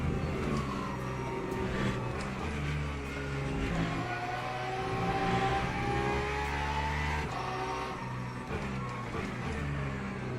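LMP2 prototype race cars lapping Imola in an endurance racing video game, a continuous loud engine drone with shifting revs and whining gear tones as cars pass close by.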